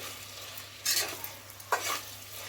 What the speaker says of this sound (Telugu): చికెన్ నూనెలో మంచిగా మగ్గాలండి